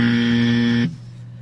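A quiz game buzzer gives one loud, harsh electronic tone that holds for nearly a second and then cuts off sharply.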